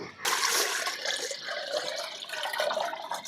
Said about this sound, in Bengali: এই যে চাল ভিজে রেখেছিলাম দিয়ে দিলাম